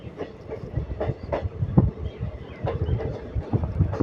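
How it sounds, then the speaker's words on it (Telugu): A passenger train between Kacheguda and Guntakal rolls slowly across the rails near the Tungabhadra river, wheels clacking in an uneven, moderately loud rhythm over a low rumble. "ట్రైన్ కూడా చాలా అంటే చాలా స్లోగా వెళ్తుంది."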